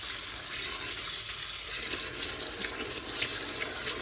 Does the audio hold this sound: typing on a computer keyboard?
no